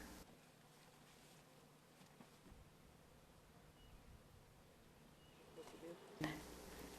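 Confused foraging honey bees return to a relocated hive box outdoors, a soft, steady insect hum running throughout with a brief louder knock near the end.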